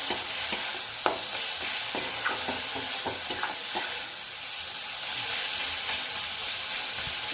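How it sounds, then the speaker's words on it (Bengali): Water poured into a hot pan of kochur loti (taro stolons) cooking with prawns, giving a steady loud sizzle and hiss with scattered clicks of a spoon stirring, close up and with no voices. "এবার একটু জল ঢেলে দেবে"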